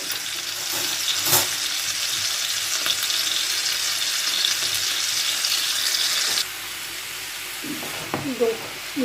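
Vegetables with salt, herbes de Provence and spices being stirred in a frying pan for a savory crêpe filling, giving a steady close sizzle that drops quieter after about six seconds, with a few utensil clinks near the end.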